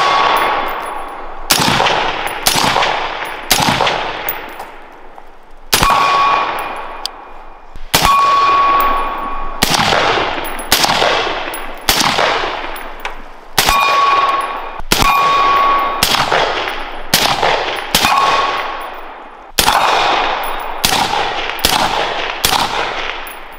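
A suppressed 14.5-inch BCM rifle, pinned and welded, pre-2008, fitted with an Otter Creek Polonium 556 suppressor, fires a long string of sharp single shots at an uneven pace, each with a ringing metallic tail.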